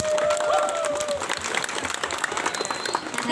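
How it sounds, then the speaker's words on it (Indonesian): Live crowd applause for Karang Taruna youth groups at a Sundanese comedy talk show, a burst of clapping mixed with cheers and chatter, fading into scattered claps and voices. "Boleh gak saya minta tepuk tangan untuk semua Karang Taruna?"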